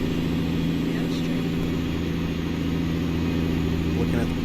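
A Mack Superliner truck engine runs in American Truck Simulator, a steady, heavy low diesel drone held at constant revs throughout, with someone talking over it.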